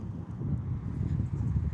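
Strong wind buffets a fallen microphone outdoors at Adelaide Airport, a steady low rumbling roar that fills the short stretch without a break and without speech.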